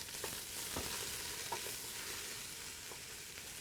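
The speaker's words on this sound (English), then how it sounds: "And I start cooking down the onions" Onions cook down in a hot pan over high heat, a continuous bright sizzle broken by occasional clicks and scrapes of stirring, close and steady.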